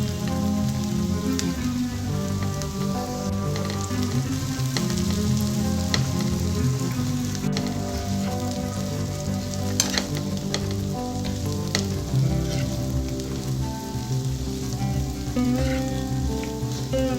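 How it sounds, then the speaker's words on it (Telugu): Bitter gourd pieces frying in a pan with onions, a steady, loud, continuous sizzle with crackling spatter and occasional stirring, no voices. "ఉల్లిపాయ ముక్కలు ఫ్రై అయిన తర్వాత కాకరకాయ ముక్కలు వేసుకోవాలి"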